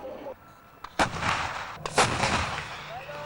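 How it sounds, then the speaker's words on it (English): Heavy tank artillery fire in a barrage on the Israeli border, with two loud booming blasts about a second apart followed by rolling rumble and echo, in an outdoor news report setting. "On the Israeli border, tanks continue their barrage against sites the army says are being used to launch rockets against them and civilians."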